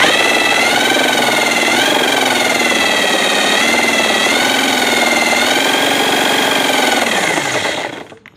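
A power drill whirs at a steady high pitch for several seconds, loud and close, spinning a homemade generator built from a motorcycle coil, then winds down and stops at the end.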